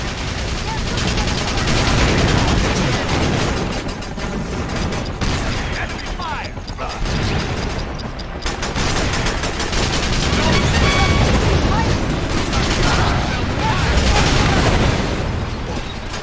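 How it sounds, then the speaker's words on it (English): Enemy gunfire in the war game Battalion Wars, with dense, continuous bursts of shots and booms layered over battle noise and game music, steady and loud throughout. "Enemy fire!"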